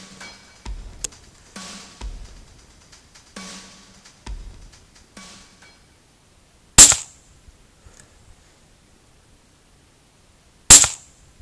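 Two sharp, loud rifle shots during a night deer hunt, several seconds apart, each a sudden crack with a short tail, following a few softer thumps and handling noises.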